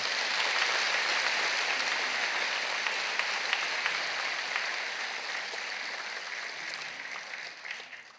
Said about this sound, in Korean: 여러분 인사할 때 큰 박수로 환영하십시오